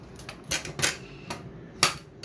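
A pure aluminium four-step household ladder snaps into its locked position, giving several sharp, light metallic clicks at irregular intervals over a quiet background.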